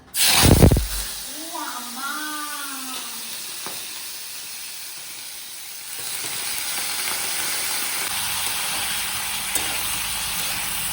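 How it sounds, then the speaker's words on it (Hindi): Pork hits a hot kadhai for a Northeast-style pork with bamboo shoot curry, opening with a sharp splash, then a bright, broad sizzle that holds steady and swells louder as frying continues, with a voice speaking briefly early on. "तो कढ़ाई गरम हो चुका है ऑलरेडी। तो पोर्क को डाल देते हैं।"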